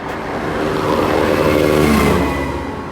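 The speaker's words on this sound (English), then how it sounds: "Let's wait for all these cars to pass." Several road vehicles sweep past on a rural road, a continuous engine and tyre roar swelling and fading across the moment, fairly loud and close with no voices.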